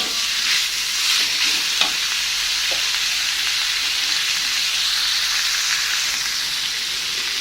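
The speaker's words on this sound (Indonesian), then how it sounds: "Aduk lagi." Green beans and ground meat stirred and fried in a pan, a steady close sizzle running throughout with a few scraping stirs of the spatula, no talking.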